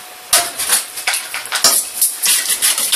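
Spoon stirring sugar and water in a bowl for crème catalane, steady rapid clinks and scrapes against the bowl, close and fairly loud, with no talking.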